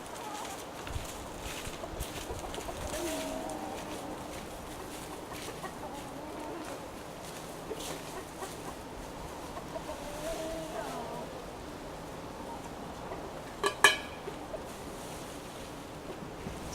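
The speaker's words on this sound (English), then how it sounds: "Sometimes I just sit here and watch my chickens," Chickens cluck softly and intermittently in the background, with a few sharper bird calls near the end over faint outdoor ambience.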